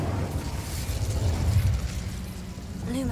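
A fiery Incendio spell blast in Hogwarts Legacy erupts as a loud, sustained rumbling burst with booming low-end roar, fading slightly before a brief voice near the end.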